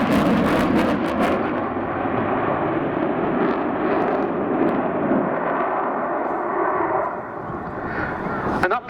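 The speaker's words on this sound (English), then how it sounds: "Afterburner engaged on the two Eurojet" A Eurofighter-type jet with two Eurojet engines roars on afterburner during a display over RAF Cosford, a loud, steady, sustained thunder that holds for the whole stretch and drops away slightly at the very end.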